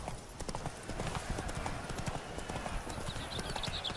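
Horse hooves in The Witcher 3 video game, a steady rapid clip-clop of a galloping horse on a path, close and continuous, with a faint voice briefly heard over it.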